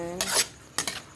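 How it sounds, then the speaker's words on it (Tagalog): Squid adobo in coconut milk being stirred in a pan, two short scraping utensil strokes against the pan about half a second apart, close and fairly quiet over a faint background. "hahaluin lang po natin yan ng bahagya ang ganyan"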